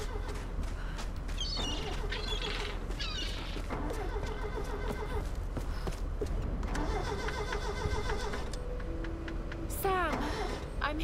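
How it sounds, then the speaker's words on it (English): Car engine starting in the Tomb Raider video game, a steady mid-pitched engine rumble running throughout alongside ticking and other game sounds, with voices talking over it. "I hear a car starting"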